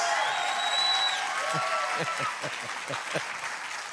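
A studio audience at a late-night talk show claps together, loud and dense at first, then thinning into scattered individual claps, with some crowd voices mixed in.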